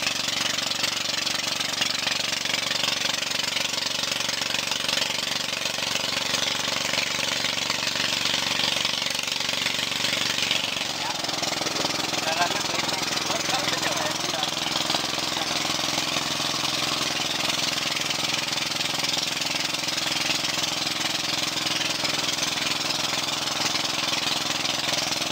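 A steady engine drone from a small boat travelling along a canal in Riau runs throughout, a constant mid-pitched motor hum with no pauses.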